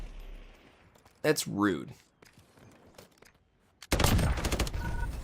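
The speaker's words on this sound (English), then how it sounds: "Oh my gosh, how many people are shooting at me?" Enemy players firing in Call of Duty, scattered gunshots and a burst of rapid automatic fire near the end, with a short spoken remark in between.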